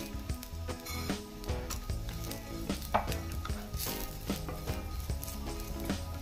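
Rice and sesame seeds roasting with coconut in a pan for a Maharashtrian drumstick curry, a steady close sizzle with scraping stirs and light clinks over background music.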